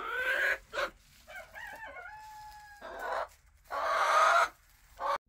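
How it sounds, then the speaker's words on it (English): Chickens in a backyard coop, Reds and a black copper Marans, crowing and clucking in several separate close calls with quiet gaps between them. "Here we got some Reds, and then our black copper Moran, which my kids named her Black Betty"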